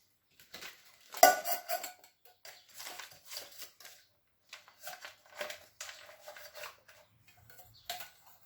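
Metal OEX camping pot set handled up close, with repeated clinks, scrapes and rattles of nesting pots and lids in irregular bursts, one louder clank early on, no talking.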